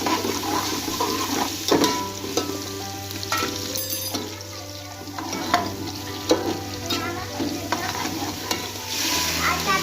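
Ginger garlic paste fries in a pan for an aloo palak dish, giving a steady, close sizzle broken by scraping and clinking from stirring, with no one speaking.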